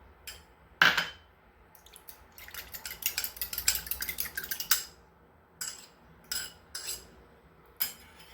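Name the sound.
mixing egg yolk with water for quiche dough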